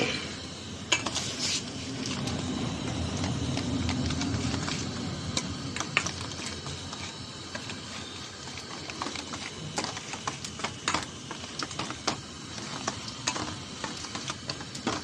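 Ground cumin, ginger paste, chilli powder and turmeric are mixed with water in a bowl, a steady wet stirring with frequent sharp clinks of a utensil against the vessel, close up.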